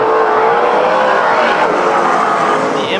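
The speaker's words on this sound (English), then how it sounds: "6 cars racing it out." Six sprint race cars scream around the Bakersfield Speedway track during a heat race, a dense, loud, continuous engine roar without a break.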